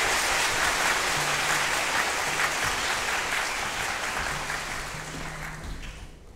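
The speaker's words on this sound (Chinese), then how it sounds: "掌声" An audience at a primary school wind band concert claps in a sustained, dense round of applause, loud at first and then gradually fading, with faint low tones sounding beneath it.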